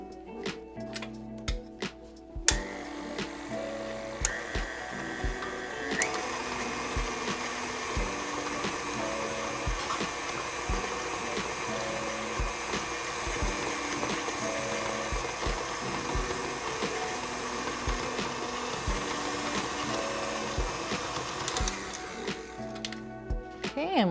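A stand mixer fitted with a paddle creams butter with light brown and granulated sugar: a steady motorized whir with rhythmic ticking that starts after a short pause and runs nearly to the end.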